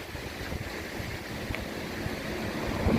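The Lot river runs strongly near a stone bridge at Saint-Côme-d'Olt, a steady broadband rush of flowing water that swells slightly louder toward the end, with no voices.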